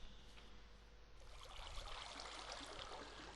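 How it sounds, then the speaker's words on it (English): Flowing water stream in Minecraft, a faint continuous rushing trickle that swells slightly partway through, with no talk. "And I'm going to make my way back out by riding the water stream."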